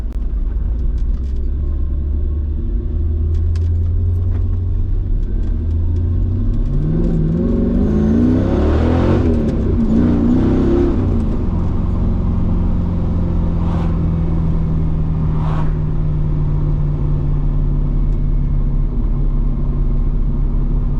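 A Mercedes C55 with an M113 V8 engine that runs rich rumbles at a loud, steady idle, then revs up and falls back in the middle before settling into a low drone again.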